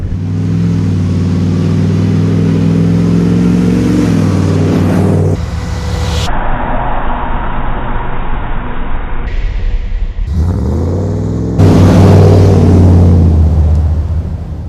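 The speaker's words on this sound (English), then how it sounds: "This particular truck is running the Rowdy exhaust, so it's pretty rowdy." A restored and modified Ford Bronco revs through a Borla Rowdy stainless steel exhaust, a loud deep rumbling idle building into sustained revs, with abrupt cuts between close engine passages and no talking.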